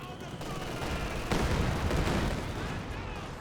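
Cannon and gunfire in a Company of Heroes 2 battle replay form a dense, continuous roar of shots and blasts, with a heavier boom about a third of the way in and a commentator talking faintly underneath.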